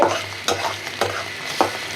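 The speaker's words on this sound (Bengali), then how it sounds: "একদম খুব সুন্দর করে ভাজছি সবজি" Vegetables stir-frying in a pan with spices for chicken pasta, a steady close sizzle broken by regular scraping strokes of the spoon about every half second, with no talking.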